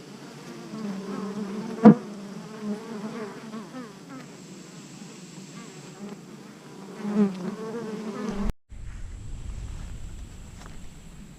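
Bees drone steadily around a hive in a low, layered hum, with a sudden knock partway through and a brief bump in the buzzing before it carries on.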